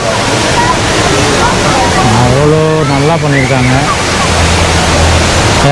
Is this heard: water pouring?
yes